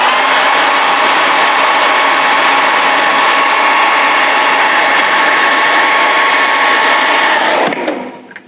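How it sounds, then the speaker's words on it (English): A hair dryer runs while drying paint on a vinyl model kit, a loud, steady blowing whir heard close up, holding constant for several seconds before switching off and winding down. "So I'll be using the hairdryer a lot."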